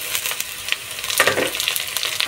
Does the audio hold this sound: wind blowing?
no